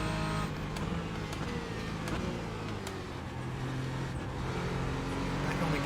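A Porsche 718 Cayman GT4 in iRacing pulls hard with a loud, sustained engine note whose pitch climbs through the gears, and the roar stays steady and close the whole time.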